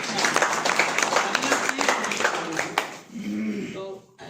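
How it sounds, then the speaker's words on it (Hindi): Scattered hand claps ring out at a Hindi-language insurance agents' seminar, welcoming a colleague: a dense burst that tapers off after about three seconds, with a voice speaking over the end. "जब आपके साथी का अभिवादन करें तो तालियां तो पूरे मन से जरूर बजनी चाहिए।"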